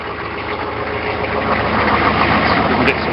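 A Weasel vehicle's engine idles after a cold start on a snowy morning at about minus 14 degrees Celsius, a steady low rumble that is loud and close and runs throughout without a break.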